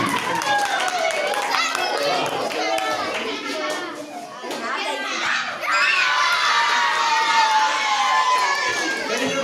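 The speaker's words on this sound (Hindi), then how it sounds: "बहुत अच्छा, तालियां बजाइए।" Children cheering and shouting in a classroom, a loud, lively burst of young voices with some clapping mixed in, dipping briefly in the middle before swelling again.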